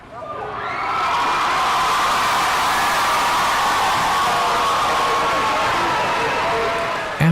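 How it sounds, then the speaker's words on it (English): A large crowd of families and friends lining the streets cheers and shouts continuously for new Marines, a dense roar of many voices that holds steady for several seconds. "parents, family members, and friends line the streets and cheer"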